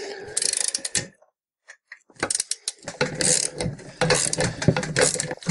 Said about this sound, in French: Il y a ici 4 vis qui retiennent le flasque. C'est du 13 et on essaie de le desserrer.